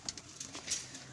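Soft cooing of pigeons kept by a pigeon fancier, close by, a few low murmuring coos over faint background noise, with no talking.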